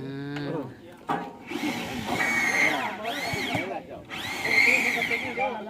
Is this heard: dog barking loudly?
no